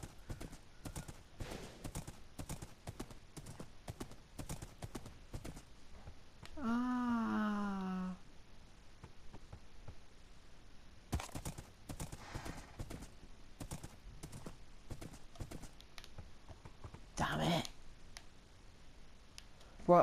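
Galloping horse hooves in Minecraft on PlayStation 4 tap out a fast, clicky rhythm across an ice biome, broken by a brief whinny-like call and a few louder bursts, with someone talking over parts of it.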